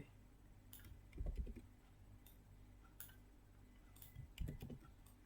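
Faint computer keyboard keystrokes entered as Ctrl C and Ctrl V copy-paste shortcuts: scattered light clicks with two small clustered bursts against a quiet room hum.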